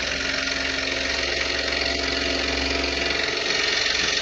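A scroll saw runs steadily with a constant mechanical hum and buzzing vibration, close and even throughout, with a slight shift in tone near the end and no talk.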